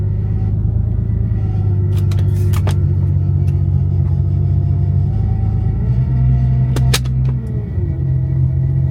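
A Ford Mustang engine idles with a loud, close, rumbling drone while gear shifts are attempted, with a few faint clunks and a short change in engine tone near the end.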